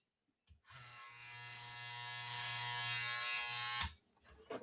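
An electric hair trimmer buzzes steadily in a barbershop, a close, even mechanical hum lasting about three seconds between short handling noises.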